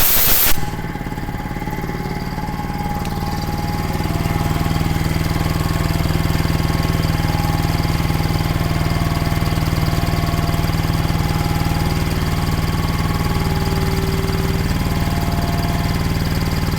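A rare old air compressor with a points-type ignition engine runs steadily after a sharp start, a loud continuous mechanical drone with tonal hum that holds even throughout.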